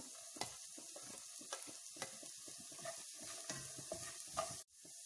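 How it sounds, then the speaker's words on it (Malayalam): Chopped cabbage stirred and frying in a pan while vegetable uppumavu is cooked, with scraping spoon strokes and bursts of sizzling at an uneven rhythm, close and fairly quiet, ending in a sudden cut to near silence. "അടുത്തതായി ഇതിലേക്ക് ക്യാബേജ് ചേർത്ത് കൊടുക്കാം."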